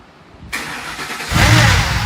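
A Ford Triton V8 cranks and fires up after a quiet moment, with a starter whir jumping into a loud, rough rumble as the engine catches and revs, close by.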